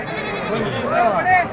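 Goat bleating in wavering cries near the end, over steady background chatter of people talking nearby at a goat and sheep market in Atpadi, India.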